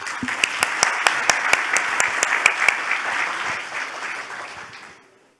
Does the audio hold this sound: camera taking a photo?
no